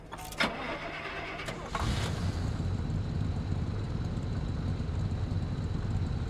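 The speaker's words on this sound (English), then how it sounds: "Let's start the new engine." A new car engine in the video game Pacific Drive cranks briefly, then catches and settles into a steady, loud low rumble that continues to the end, with no voices over it.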